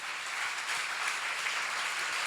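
A congregation at a Korean church seminar claps together in a steady, even wash of applause, moderately distant and without talk over it.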